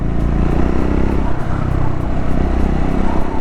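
A motorcycle rides along a road in Nepal on the way to Kanyam. Its engine drones loudly and steadily the whole time, close up, with road rumble and no voices.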